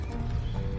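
Hooves of Roach, Geralt's horse in The Witcher video game, clip-clop in a quick, steady rhythm over low, rumbling game ambience during a short burst of movement.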